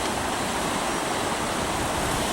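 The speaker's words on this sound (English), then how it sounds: "And this tiny kind of waterfall." Small waterfall on the River Wye, a steady, loud, broadband rush of falling water with no break and no voices.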